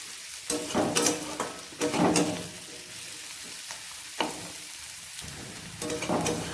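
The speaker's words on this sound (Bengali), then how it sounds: "আমার ছিমির বিচিটা আর মশলাটা ভাজা হয়ে গেছে" Bean seeds and spices fry in a pan with a continuous sizzle. Several louder bursts of stirring and scraping rise out of the hiss, close and moderately loud, with no talking.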